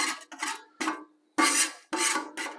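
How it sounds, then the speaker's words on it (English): A metal scraper rasps across a Blackstone griddle in five or six firm, close strokes separated by short pauses, each a harsh grinding scrape. "I'm going to give this whole griddle a scrape."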